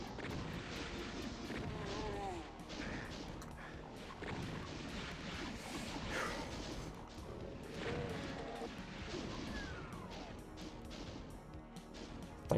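Projectiles fly and explosions boom almost without pause in the 1993 video game DOOM during the Episode 4 finale, a loud, dense, overlapping barrage of blasts and impacts throughout.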